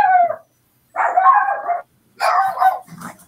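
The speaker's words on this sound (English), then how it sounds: "whoever barked first, they sent my dogs into a tizzy too" Dogs bark loudly and close by in three bursts of yappy, overlapping barks separated by short silences, with a whimper at the end.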